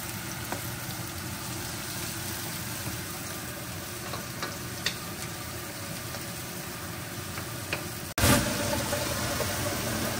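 Sliced onions hit a hot pan for Filipino chicken tinola, a sudden loud sizzle bursting in near the end over a steady background hum, then frying on continuously.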